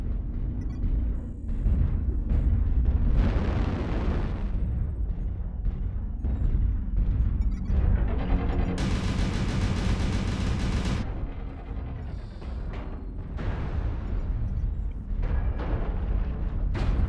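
Dense combat din from MechWarrior Online, with rumbling explosions and gunfire running continuously, a bright burst of sustained weapon fire in the middle, all loud and close.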